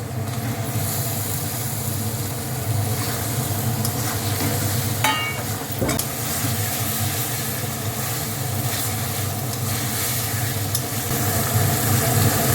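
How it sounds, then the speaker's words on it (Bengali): Pointed gourd (potol) fries in plenty of oil, a steady close sizzle with occasional stirring clatters and no voices. "এবার আমি পটলগুলো দিয়ে দেবো যে অনেকটা তেল ছেড়ে এসছে পটলগুলো দিয়ে আমি কষাবো"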